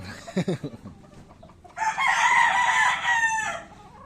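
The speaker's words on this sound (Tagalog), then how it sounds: "Yan, nanabungad sa akin tuwing umaga. Mga manok." Rooster crowing loudly and close, a long sustained call after a few short clucks from chickens at a backyard coop with Shamo gamefowl stags, heard in the morning.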